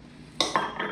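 Ceramic Homer Laughlin bowls clink together as they are handled, three quick bright contacts in under a second, close and clear with no talking.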